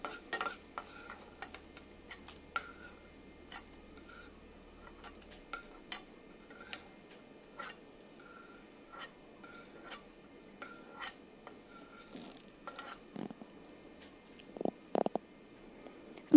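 Melon seeds frying in hot oil for laddoos, giving off sparse, faint crackling pops and light clicks at irregular intervals over a quiet background, with a few slightly louder pops near the end.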